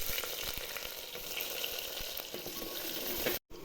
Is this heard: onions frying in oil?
yes